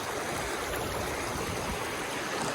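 A river flows in broad daylight, its steady, dense rush of water filling the whole scene at a constant level, close and continuous with no voices.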